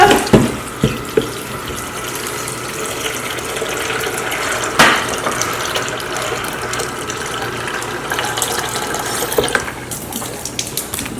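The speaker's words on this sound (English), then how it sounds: "add some water." Water runs steadily from a tap into a blender of peanuts with a continuous splashing rush, accompanied by a few clunks and clicks near the start and middle.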